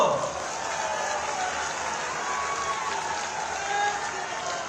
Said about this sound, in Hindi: जोरदार ताली तो बजा दो।